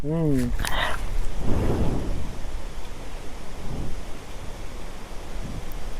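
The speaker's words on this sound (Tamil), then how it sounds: "காத்து சவுண்ட் மட்டும் தான் கேக்குது." Loud, blustery wind at Kolukkumalai roars against the microphone in a constant rush. A brief voice-like sound comes at the very start.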